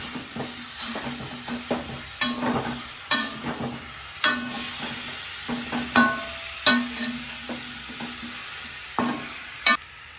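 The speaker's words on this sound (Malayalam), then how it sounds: "ഒരു രണ്ട് മിനിറ്റ് ജസ്റ്റ് ഒന്ന് ഇളക്കിയെടുക്കാം" Chicken curry masala with salt is stirred in a pan, giving close, loud scraping and clanking strokes at irregular intervals over a low, steady frying sizzle.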